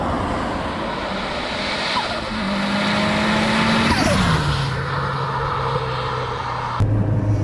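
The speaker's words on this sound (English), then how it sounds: "Hopefully the turbo noises are picking up on camera as well, guys, because this thing's got like proper Jap car flutter." A Mitsubishi Evo 9 driving along, with a steady engine drone and rising whine and a turbo flutter, heard from inside the car with no talking.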